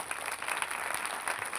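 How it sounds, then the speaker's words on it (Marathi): A crowd gives a dense, steady burst of clapping for two mridang players at a devotional kirtan gathering at Shri Kshetra Bhagwangad, filling the moment evenly with no voices over it. "एकदा दोन्ही मृदंगाचार्यासाठी जोरदार टाळ्या वाजवा"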